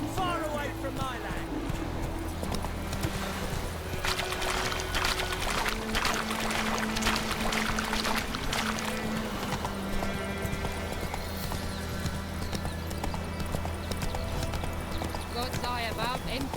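The horse Roach gallops in The Witcher 3: Wild Hunt, a steady rhythmic clip-clop of hooves running under game music and spoken character dialogue throughout.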